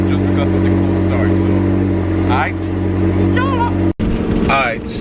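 A 2017 Audi R8 V10 Plus idling high and loud just after a cold start on a rainy day, its steady engine drone filling the scene while someone talks over it close by.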